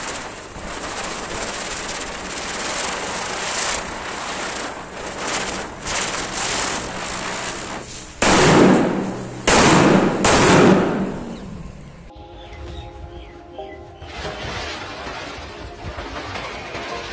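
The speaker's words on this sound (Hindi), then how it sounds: "ये वैसे छोटी सी चक्री है हमारी, लेकिन ये काफ़ी देर तक चलेगी, इन बम को सभी को फोड़ देगी ये।" A small spinning chakri firecracker set among bullet bomb firecrackers, with a steady crackling hiss and a run of sharp, loud bangs near the middle before fizzing tails off.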